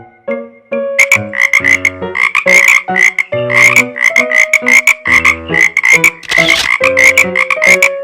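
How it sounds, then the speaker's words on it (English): Frogs croak loudly and repeatedly in a steady, pulsing chorus, with clear close calls repeating throughout and no talking. "Frog."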